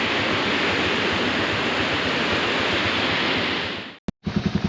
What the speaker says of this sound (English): all this water running down here, the little waterfall, it's all out of a hot springs at the top